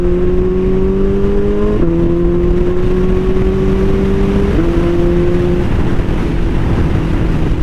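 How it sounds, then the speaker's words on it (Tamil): A Suzuki Hayabusa with an Akrapovic full-system exhaust drones loudly and continuously, its engine note stepping in pitch twice as the gears change down. "கியர் டவுன் பண்ணுற TTF."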